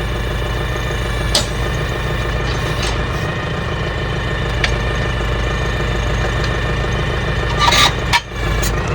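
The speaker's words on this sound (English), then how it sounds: "we're gonna fire up the PTO, make sure everything is spinning and timing right" A Massey tractor runs steadily with its PTO driving a tedder, a loud continuous mid-pitched engine drone with a few brief clicks and knocks over the top.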